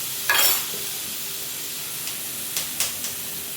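Chopped tomato frying in a pan for an egg bhurji, a soft steady sizzle with a brief louder hiss near the start and a few quick stirring clinks later, fairly quiet overall.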